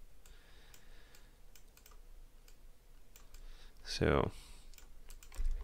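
Computer keyboard typing at a desk during game-engine work, quiet scattered key clicks with a louder clatter near the end, beside a brief spoken word.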